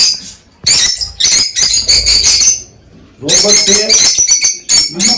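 Sparrows in an aviary give dense bursts of high, bright chirps and twitters, loud and close, in two clusters with a short quiet gap between them. Voices appear to mix in with the birds.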